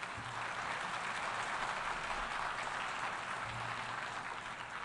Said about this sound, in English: Well, you applaud now